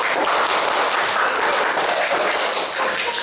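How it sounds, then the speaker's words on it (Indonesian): Students applauding in a classroom, a continuous wash of clapping hands at fairly loud level, steady from start to finish with no voices over it. "tepuk tangan buat aku"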